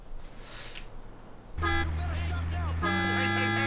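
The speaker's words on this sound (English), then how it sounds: "I honked at those guys so that they wouldn't shoot me" A car horn in Grand Theft Auto: San Andreas blares in long sustained honks, loud and close, following a stretch of gameplay noise, with a second honk continuing to the end.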